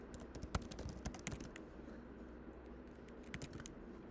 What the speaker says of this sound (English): I will type some of the keywords